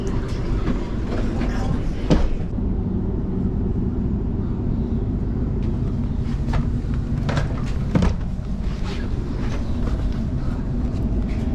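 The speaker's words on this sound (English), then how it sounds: "good old double-decker train" Steady rumbling of a double-decker train riding the rails, with rhythmic rail clatter, a continuous loud ride with occasional sharper clacks.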